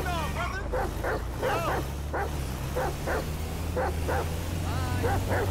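Chop, a dog in the video game GTA 5, lets out repeated short barks and yips at an irregular rhythm, fairly close and loud over a constant low engine rumble.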